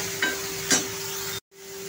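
Ginger-garlic paste fries in a pan with a steady soft sizzle, broken by a couple of light stirring scrapes and a brief cut before the hiss resumes.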